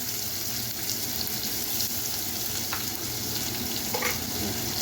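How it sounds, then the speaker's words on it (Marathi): Finely chopped onion fries with ginger in a pan for a cauliflower bhaji, producing a constant close sizzling hiss with faint stirring clicks and no voices. "कांदा चांगला गुलाबी होईपर्यंत आपल्याला तळायचा आहे."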